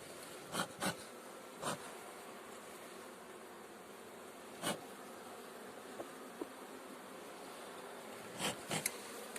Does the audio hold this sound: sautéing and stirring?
no